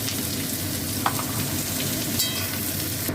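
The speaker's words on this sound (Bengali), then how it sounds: "এই আলুর সঙ্গে এই পেঁয়াজটা ভেজে নেবো।" Potatoes and onions fry in a pan with a constant hiss and crackle, a couple of faint stirring clicks breaking the steady sizzle.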